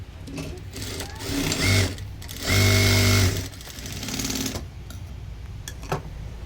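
A sewing machine stitching tucks into a blouse runs in several whirring bursts of rapid mechanical clatter, with the longest and loudest in the middle and brief pauses and quieter handling noises between them.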